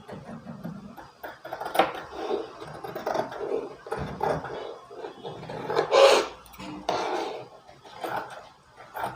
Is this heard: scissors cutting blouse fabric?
yes